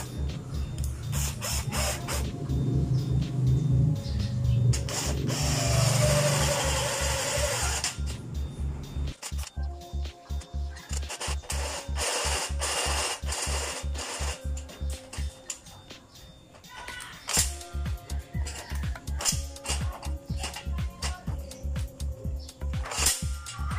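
A step drill bit bores through a stainless steel sheet with rapid buzzing and ticking pulses, loud and close, pausing briefly and starting again.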